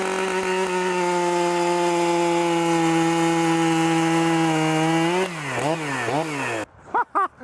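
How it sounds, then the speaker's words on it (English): A STIHL MS 881, a very large production chainsaw, runs loud and close at a steady high whine, then revs up and down in several sharp bursts before cutting off, with a couple of brief blips at the end. "Now for the STIHL MS 881, the newest, largest production saw in the world."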